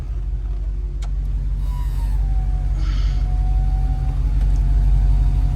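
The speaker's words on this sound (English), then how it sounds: "I'm gonna go ahead and put the top up." The power top of a 1991 Ford Mustang GT convertible rises with a thin, steady electric motor whine that glides in pitch over the low rumble of the idling engine.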